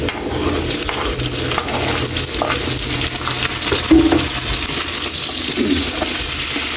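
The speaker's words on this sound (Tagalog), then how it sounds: "ilagay na natin yung sibuyas at yung kamatis natin" Onion and tomato sautéing in a pan for a simple sardine dish, a loud continuous sizzle with clattering stirs and a brief watery splash midway, close and without speech.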